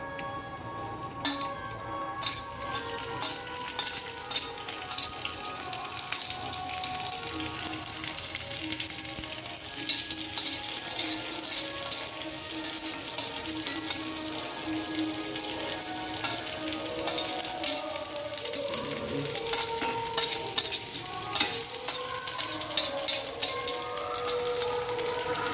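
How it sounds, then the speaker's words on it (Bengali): Onions sizzle in hot oil in a pan while cooking stuffed parathas, a dense, steady crackling hiss that starts after a short quieter opening and runs on throughout. "তেলটা আমার গরম হয়ে গেছে, এক এক করে তেলের মধ্যে ছেড়ে দেব"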